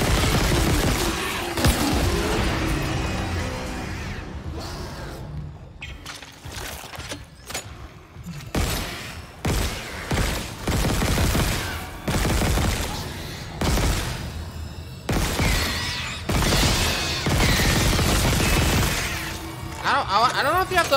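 Gunfire in the sci-fi horror video game Dead Space: repeated loud bursts of weapon shots and crashing impacts, mixed with game sounds, while a player talks throughout.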